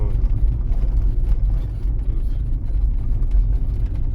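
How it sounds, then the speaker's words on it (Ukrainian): Manual-transmission car cruising in third gear at about 40 km/h on a rough, broken road in Kovel: a loud, steady low engine drone with road rumble from inside the cabin, unbroken for a few seconds. "Зараз я на третій третє включився, у мене механічна коробка передач, 40 км в час зараз їду."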